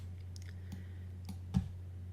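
A few light clicks from computer keyboard key presses during a Photoshop session, faint and sparse over a steady low hum, with one slightly sharper press near the end.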